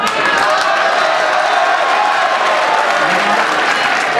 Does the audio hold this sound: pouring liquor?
no